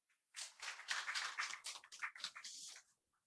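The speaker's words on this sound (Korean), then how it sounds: "박수가 갈수록 적어지는 것 같습니다" Thin, scattered clapping from a small audience at a Korean panel discussion as participants are introduced, rising and fading over about three seconds with uneven, sparse hand claps.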